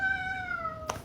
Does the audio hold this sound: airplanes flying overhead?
no